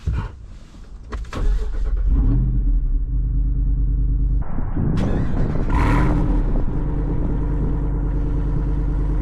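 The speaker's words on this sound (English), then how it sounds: "Here's a cold startup. Well, it's kind of cold. On a Jeep Wrangler." A 2024 Jeep Wrangler Rubicon 392 HEMI V8 cranks briefly on a cold start with exhaust valves open, then catches and roars to life, settling into a loud, deep, steady idle with a throaty rev partway through.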